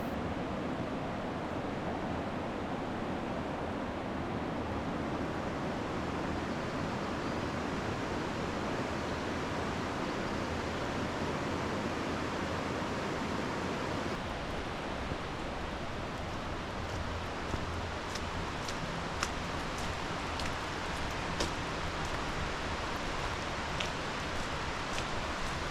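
Twin Falls, the lower falls of a waterfall on the Snoqualmie River in Olallie State Park, Washington, pours as a loud, unbroken broadband roar, with faint clicks and light handling noise in the second half and no talk.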